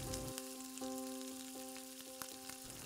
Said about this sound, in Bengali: আমি আরও 5 থেকে 7 মিনিট চিকেনটাকে হাই ফ্লেমে কষিয়ে নিচ্ছি।